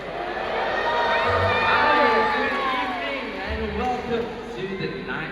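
A large audience at the Creatures of the Night show at Singapore's Night Safari cheers and shouts, a dense wash of overlapping voices, including children, that swells and eases.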